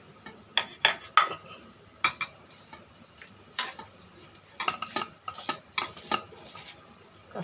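Onion, green chili, turmeric, salt and ginger-garlic paste hand-mashed in a bowl for kachki fish, heard as soft irregular clicks, squelches and taps of fingers and bowl, faint and close, with no voices.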